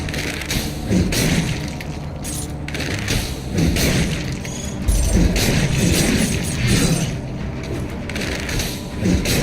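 Ice arrows strike enemies in the action game Dead Cells, heard as a steady run of loud thuds, crunchy smashes and clanking impacts over busy game noise, with no voice over it.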